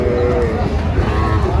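A Sahiwal heifer calf lets out a short, low moo close by, sounding over steady farmyard background noise with no talking.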